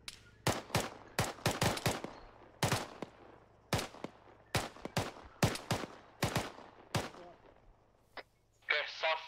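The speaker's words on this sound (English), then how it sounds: "We are in heavy fire right now" Heavy gunfire in ArmA 3 during a military operation: a string of loud, sharp rifle and machine-gun bursts at irregular intervals, some close and punchy, with faint radio chatter near the end.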